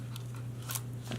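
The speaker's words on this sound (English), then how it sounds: "I have to cut that one." Scissors snip paper on a floral shaker box card project, a couple of quick crisp cuts over a steady low electrical hum, close and fairly quiet.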